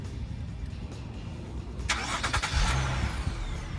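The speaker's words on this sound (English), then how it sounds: "To remote start the car, you're going to hit lock 3 times." A car engine starts by remote start, a broadband crank burst followed by a steady low engine rumble settling into idle, heard close with no talking.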